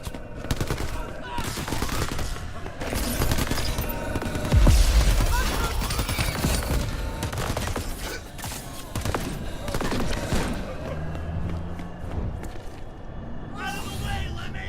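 Rapid bursts of enemy gunfire crackle through a Crackdown 3 firefight against militia, dense overlapping volleys with a heavier boom near the middle, a person talking over the shooting.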